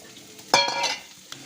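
Onion and chili are dropped onto fried garlic paste in a hot pan for kurma, giving a sudden burst of sizzling with a short stirring scrape that quickly settles into a softer fry, close and brief.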